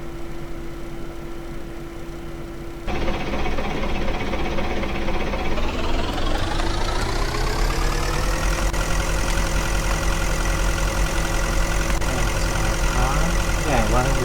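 Car engine in a Unity game project with the max RPM set to 100, starting from a low idle hum and then revving up to a steady, loud, sustained drone with harmonic whine, heard alone without talk.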